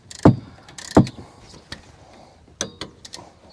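Sharp metallic clicks ring out from a torque wrench set to 20 foot-pounds as it tightens a 14 mm rear brake bolt on a third-generation Toyota RAV4, two loud snaps followed by lighter taps and rattles, close and without talk.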